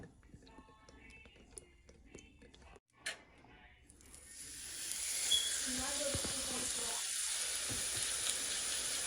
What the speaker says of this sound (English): now I'm going to sear it in my pan